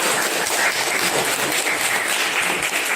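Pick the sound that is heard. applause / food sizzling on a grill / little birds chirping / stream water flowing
applause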